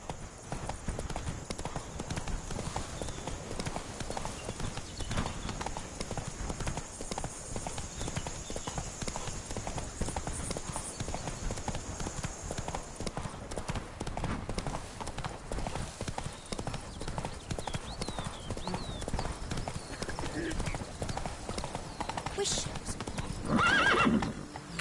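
Hooves of Roach the horse clip-clop continuously in The Witcher 3: Blood and Wine, a dense steady trotting rhythm, with neighing and a voice talking over the game sound.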